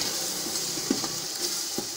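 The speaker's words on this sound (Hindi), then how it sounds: "अब इन सब मसालों को अच्छी तरह से मिक्स करेंगे।" Chilli flakes, garam masala and cumin powder are stirred through a sizzling pan for aloo matar pulao, a steady close frying hiss with a few soft scrapes and taps from the spoon.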